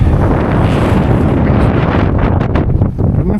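Strong, gusty wind buffets loudly and continuously across an exposed fell during a Lake District winter walk, a deep rumbling roar with no voices.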